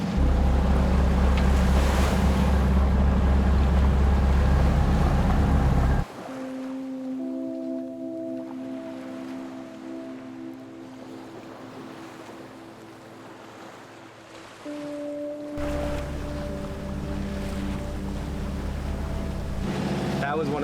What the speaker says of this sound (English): So I'm gonna play conservative and just motor sail our way through this.